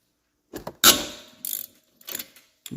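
A hand ratchet works loose the 13 mm caliper bolts on the rear brakes of a Dodge Journey, giving short bursts of clicking and one sharper metallic crack, close by, with no talking.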